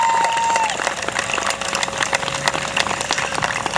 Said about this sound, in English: Let's clap it up one time for that